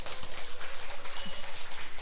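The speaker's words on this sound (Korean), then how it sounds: "역시 박수 타임은 너무 잘하세요" An indoor audience at a marketing seminar claps briefly in a dense, steady round of applause, close and fairly loud, lasting about two seconds.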